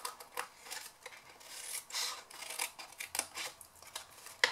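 Scissors snip wedges out of a papercraft box part, a series of quiet, crisp paper cuts and rustles in an irregular rhythm, close up, with no talking.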